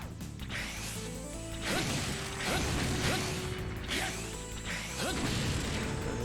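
Mechanical clanks, whooshes and metallic creaks from a moving elevator in the Mega Man X Dive video game, rhythmic impacts recurring about every second amid layered game sound effects.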